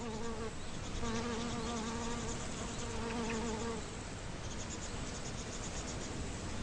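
Bees buzzing around water hyacinth flowers, a close, continuous droning hum with wavering pitch as insects move nearby, alone without voices.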